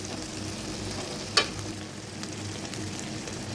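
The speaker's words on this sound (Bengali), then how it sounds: "আদা, রসুন, এলাচ, দারুচিনি, তেজপাতা, বড় এলাচ, জিরার গুঁড়া, ধনিয়ার গুঁড়া, মরিচের গুঁড়া, হলুদের গুঁড়া দিয়ে ভালো করে কষায় নিচ্ছি।" Ginger, garlic, cardamom, cinnamon, bay leaf and ground cumin, coriander, chili and turmeric frying in oil in a pan for chickpea bhuna, a steady close sizzle with one brief clink partway through.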